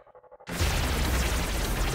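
Explosion in the Vampire Survivors video game: after a brief stretch of pulsing, muffled game sound, a loud burst erupts and settles into a dense, sustained crackling roar that fills the rest of the moment.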